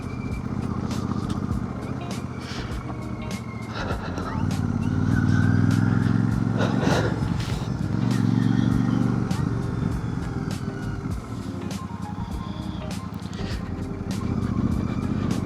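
A motorcycle rides a mountain road between Bhaderwah and Sarthal in Jammu, its engine droning steadily and swelling slightly midway, with wind and road rumble. No one speaks.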